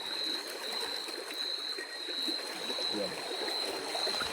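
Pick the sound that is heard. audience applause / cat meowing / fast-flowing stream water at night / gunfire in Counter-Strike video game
fast-flowing stream water at night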